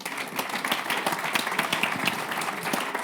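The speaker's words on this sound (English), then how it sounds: "let us please give all of our panelists a very warm round of applause" The audience at the ECB Forum on Banking Supervision 2017 applauds its panelists with brisk, fairly loud clapping that runs steadily for about three seconds.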